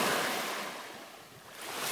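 Waves break and wash on a beach at Ma-Me-O Beach in summer, a loud, steady surf roar that swells, dips and rises again over two seconds, with some wind and no speech.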